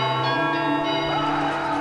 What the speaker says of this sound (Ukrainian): монастирські дзвони били день і ніч